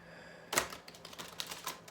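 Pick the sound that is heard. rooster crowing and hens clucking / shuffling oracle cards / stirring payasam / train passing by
shuffling oracle cards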